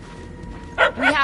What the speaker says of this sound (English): The yapping is getting louder.